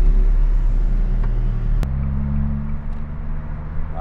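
Road traffic at a roundabout rumbles low and steadily as engines pass nearby, a continuous roar with no voices.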